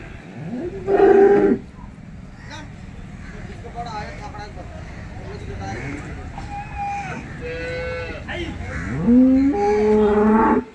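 A cow at a cattle market in Maharashtra lets out two loud, drawn-out moos, one near the start and one near the end, while someone talks in between.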